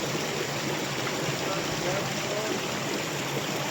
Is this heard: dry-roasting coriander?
no